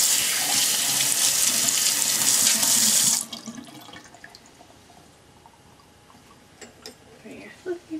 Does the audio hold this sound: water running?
yes